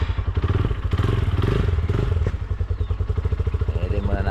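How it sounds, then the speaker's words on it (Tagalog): A motorcycle engine idles while warming up before riding, a close, steady rapid thumping putter with a slight clatter, and someone talks over it. "kailangan iinit yung ating motor bago tayo tumakbo"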